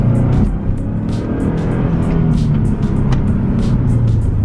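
A turbocharged Subaru Legacy GT drives under boost, its engine droning loudly and steadily from inside the car with road rumble and no talking.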